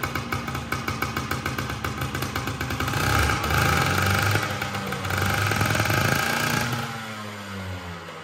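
A Bajaj Chetak scooter engine, its fuel tap switched to reserve, chugs and idles with a rapid pulsing putter, swells into a louder rev midway, then settles and fades toward the end.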